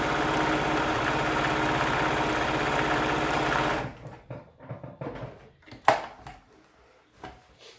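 Sewing machine stitching a McCall's M5822 bag: a steady, continuous mechanical whir runs for several seconds, then stops, leaving soft clicks and handling knocks.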